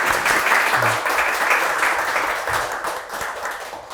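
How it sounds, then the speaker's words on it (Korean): An audience claps at the close of an AI seminar. The applause is dense and steady, fairly close, and slowly fades over four seconds. "박수 한번 좀 부탁드리겠습니다"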